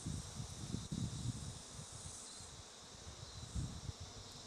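Bees buzzing around a hive: a steady, close insect drone with soft low thumps and rustles beneath it, and no voices.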